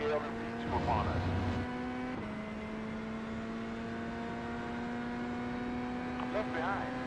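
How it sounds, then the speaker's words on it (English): An LMP2 prototype race car in iRacing sweeps past, its engine pitch sliding in a steady harmonic whine over the player's own car's constant drone, with talk over the top. "We have a LMP2 upon us."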